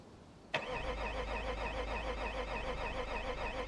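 A car engine failing to start in BeamNG.drive: a sharp click, then a steady, fairly quiet cranking drone that never catches, with no voices.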